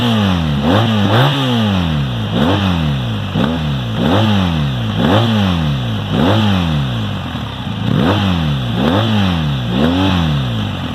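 A 2019 BMW R1250GS motorcycle engine and exhaust revving hard and repeatedly, each throttle blip rising and falling in a steady rhythm, loud and close with a rough mechanical edge throughout.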